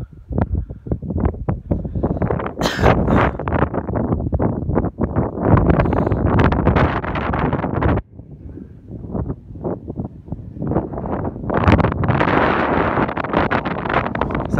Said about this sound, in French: il y a du vent, il y a du vent.